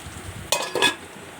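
Onions fry for semolina upma in a covered pan, two quick close bursts of sizzling and scraping against a quiet background.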